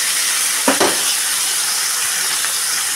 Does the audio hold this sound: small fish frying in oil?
yes